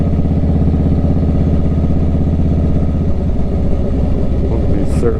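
A loud, steady motorcycle engine rumble with throbbing exhaust, close up while riding in North Texas, its pitch shifting slightly toward the end.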